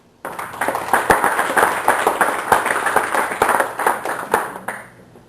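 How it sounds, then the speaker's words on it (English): A crowd applauding with steady, lively clapping that starts abruptly and fades out near the end. "Round of applause."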